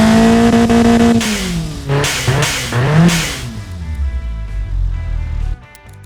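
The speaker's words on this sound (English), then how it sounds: "add an aftermarket muffler with a bypass valve, and check out the difference" A simulated Hyundai 1.4L inline-four fitted with a bypass muffler revs hard in the Automation game, the engine note climbing and falling through several sharp sweeps before settling into a low, rumbling idle, loud and alone.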